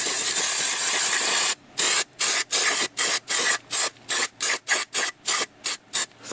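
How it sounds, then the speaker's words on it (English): An aerosol can sprays grease onto the inside of a brake rotor on a Ford Taurus, starting with one long continuous hiss and then breaking into a rapid series of short, evenly spaced spray bursts, loud and close. "Spray some grease on the inside so it doesn't corrode."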